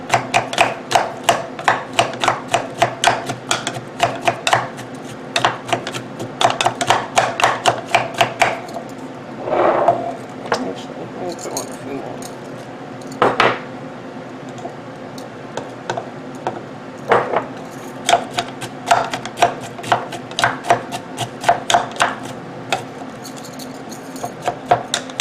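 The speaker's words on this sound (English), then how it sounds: "I have my small wooden spoon, and I'm going to bruise that up" Rapid wooden knocks from a small wooden spoon bruising cucumber and apple pieces in a cup, coming in clustered bursts of sharp taps with short pauses between, fairly close and clear, without speech.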